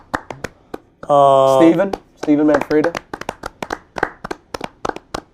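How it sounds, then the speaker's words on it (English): A group of people bursts into clapping for athletes in two loud rounds of applause, with voices talking before and between the rounds and scattered single claps after. "One more clap for Sheehan."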